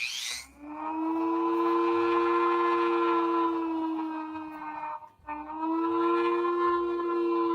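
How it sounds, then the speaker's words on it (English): A passing train sounds its horn in two long, loud, steady chord blasts, the first around four seconds and the second shorter after a brief break, with no talk over it. "Oh, there's a train going by."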